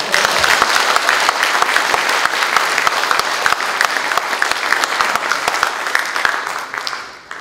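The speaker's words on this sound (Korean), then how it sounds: "그런 의미에서 다시 한번 박수합니다." An audience at a Korean unification advisory council's inaugural meeting in eastern Canada gives a steady, fairly loud round of clapping that tapers off near the end.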